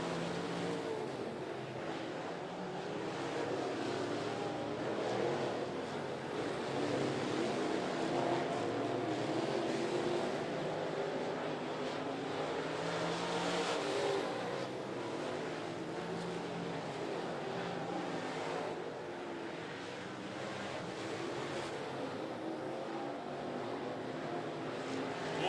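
Late model race cars roaring around the 411 Motor Speedway oval, a steady, dense engine drone that stays loud throughout with slight swells as cars pass.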